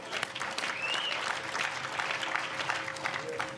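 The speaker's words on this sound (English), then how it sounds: "Y'all can clap on that." A live audience at a public talk claps in a steady, moderately distant round of applause lasting a few seconds, with a faint voice briefly audible.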